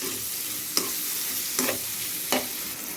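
Plenty of onion and chopped garlic frying in oil, a steady close hiss broken by three sharp stirring scrapes spaced about a second apart.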